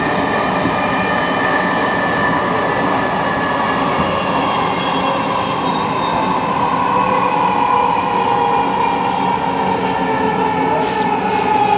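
Dhaka metro rail train running between Mirpur 10 and Uttara North, heard from inside as a loud, steady rumble and hum with a continuous tonal whine throughout.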